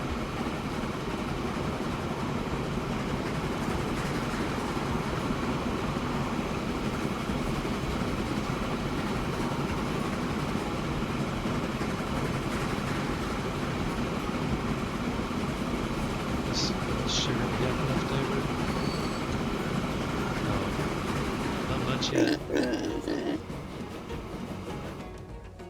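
Trains rumble and clatter along the tracks in Transport Fever 2, a steady rolling mechanical noise with faint clicks and a few brief squeals near the end before it eases off.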